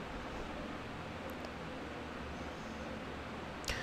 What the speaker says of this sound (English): unwanted noise sound that is coming out from my ceiling fan.